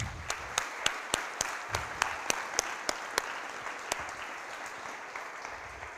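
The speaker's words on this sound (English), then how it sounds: "I will encourage you to give a round of applause to the whole team that make everything possible" Audience applause for an event's organizing team at a talk, heard as a scattered run of distinct claps over a soft crowd wash, sparse and moderately distant, tapering off after a few seconds.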